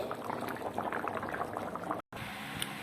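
Chicken curry boiling in a pot after hot water is added, a close dense bubbling and popping that continues steadily, with a brief cut near the end.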